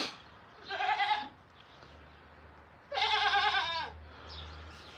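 Goats on a farm let out two loud, wavering bleats a couple of seconds apart, close by. A faint low hum sits in the background.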